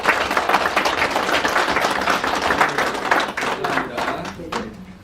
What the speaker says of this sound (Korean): 혹시 모르시는 분들 위해서 박수 한번 인사 한번